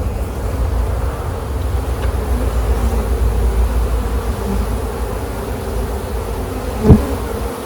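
Loud, dense buzzing of a swarm of honeybees close by while a hive is split, a continuous drone with one brief knock near the end.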